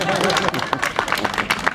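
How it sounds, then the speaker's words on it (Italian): Audience applause at a Lega political gathering in Oderzo, scattered claps and crowd murmur running under a voice as he speaks. "Grazie per l'applauso."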